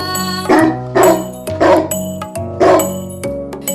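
A dog barks four times in a steady rhythm over a sustained musical backing, the barks close and loud.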